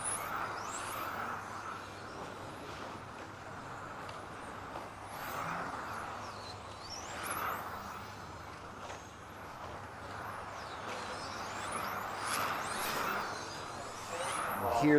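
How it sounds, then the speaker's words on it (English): Small high-pitched 1/10 scale electric RC touring cars whine past repeatedly down the pit straight at a steady clip during race practice, each rising and falling pass blending into a continuous ambient buzz. "Hear the speed of the modified cars as they're ripping through the start of the pit straight"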